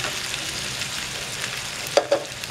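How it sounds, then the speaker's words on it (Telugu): Okra frying in a pan for a Telugu okra and dried-prawn curry gives a steady, close sizzle. A few sharp stirring clinks come near the end, and no one speaks. "ఇప్పుడు బెండకాయలు వేసుకుందాము"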